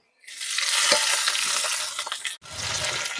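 Chopped dry and green chillies and ginger hit hot white oil with bay leaves in a wok, giving a loud, steady sizzle that swells at the start and then drops briefly before the frying resumes.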